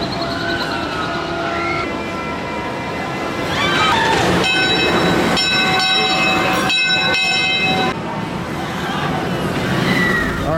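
The Steel Vengeance roller coaster roars loudly nearby, a heavy rumbling rush that rises midway with metallic screeching tones, while voices murmur faintly underneath.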